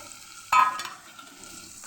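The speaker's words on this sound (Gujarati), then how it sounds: "એ પણ સરસ મિક્સ કરી અને આપણે સાતડી લેવાના છે" Tomatoes sauté with garlic chutney in a pan: a sudden stir or scrape is followed by a steady, fairly quiet sizzle that carries on to the end.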